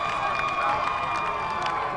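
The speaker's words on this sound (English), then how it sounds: "Listen to this crowd" Stadium crowd roaring steadily during a college football game between Moorpark and Santa Barbara after a 37-yard field goal attempt is tipped and missed, a dense, sustained wash of cheering with no pauses.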